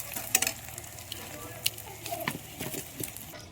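Chopped raw garlic sizzles faintly in hot oil with onion in a home kitchen pan, cooking for a chivai leaf bhaji, with soft steady frying and a few sharp pops and crackles.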